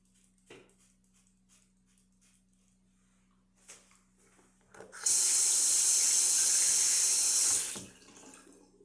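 A Gillette Atra razor, a 1978 sterling silver edition, is rinsed under a running tap: a loud steady gush of water for about three seconds, with faint handling taps before it.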